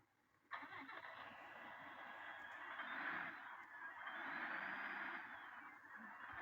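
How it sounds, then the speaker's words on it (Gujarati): A truck engine starting up in a driving video game: a faint click, then a steady mid-pitched engine drone that swells and settles at idle, heard alone without talk. "હાલો તો ગાડી કરી ચાલુ."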